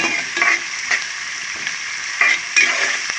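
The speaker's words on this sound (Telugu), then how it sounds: "ఇది వేడుతుంది కదా కొద్దిగా ఐదు నిమిషాల్లో వేగుతుంది అనమాట" Onions and chilli-spiced curry base frying in a pan for mutton and drumstick curry, a steady close sizzle with a few brief scraping stirs, no talking.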